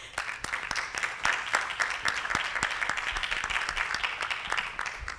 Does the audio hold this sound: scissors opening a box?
no